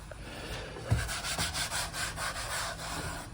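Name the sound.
wiping brake fluid reservoir clean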